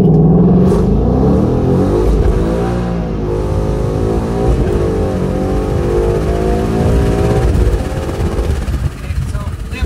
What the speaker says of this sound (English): just gonna see if I can go through at least 3 gears, you know, with regular launching methods